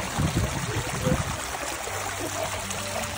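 Water flows and trickles steadily at Pamukkale's white travertine thermal pools, a soft continuous wash with some low rumbling at the start.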